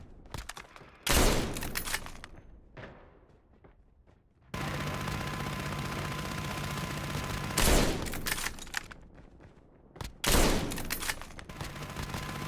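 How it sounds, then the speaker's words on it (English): Sentry gun firing in Call of Duty Mobile during a sniper match: sharp bursts of automatic gunfire in several loud volleys, with a steady mechanical hum and sustained rattling between bursts, no talk. "Sentry gun deployed."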